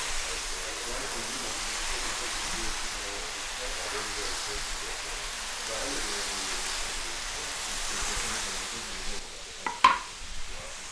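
Bacon strips frying in a pan for a homemade Big Mac-style burger, a steady soft sizzle and hiss running throughout, ending with a couple of sharp clicks.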